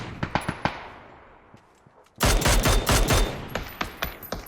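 Gunfire in PUBG: a few spaced shots, a short quiet gap, then a loud burst of rapid automatic fire followed by a few more scattered shots.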